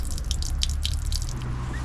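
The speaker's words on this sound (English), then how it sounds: "That will pour out for a little while until the boiler is completely drained." Water draining out of a motorhome boiler, a steady splashing pour with irregular drips and trickles close by, continuous throughout with no voices.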